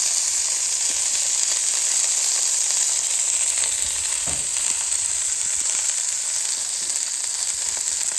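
Sausages and onions sizzle in oil on a Callow four-burner plancha, a loud, dense, continuous hiss and crackle heard up close with no pauses.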